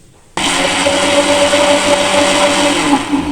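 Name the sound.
blender grinding raw mango sharbat with black pepper and black salt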